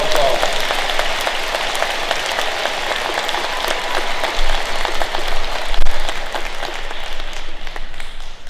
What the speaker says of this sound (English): Let's give these rising freshmen a round of applause